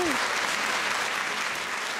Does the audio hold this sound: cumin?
no